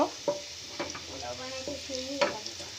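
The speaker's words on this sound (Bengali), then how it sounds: "আদা দিয়ে পোলাও চালটাকে আমি ভেজে নিব" Pulao rice fries with chopped onion and ginger in a pan, giving a steady close sizzle broken by several scraping stirs of a spoon.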